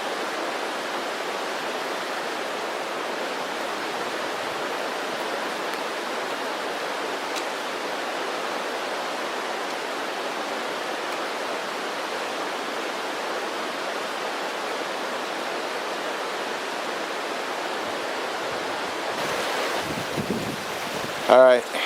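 A river flows steadily in the outdoors, a broad continuous rush of water that stays loud and even throughout, with some handling noise near the end.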